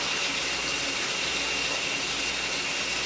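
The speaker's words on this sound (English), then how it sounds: "Going to add some more liquid in here." Liquid pours steadily into a pot of stewing smoked-paprika chicken, a continuous close gushing splash that stays loud and even throughout.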